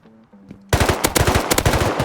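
Rapid automatic gunfire in the survival game Rust, a close, loud burst of about a dozen sharp shots in quick succession after a brief quiet moment, with no talk.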